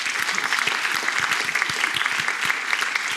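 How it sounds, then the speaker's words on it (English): Sustained, dense applause from a lecture-hall audience at a centenary celebration of the Norton Lectures, steady and fairly loud throughout with no talking over it. "please give him a round of applause too"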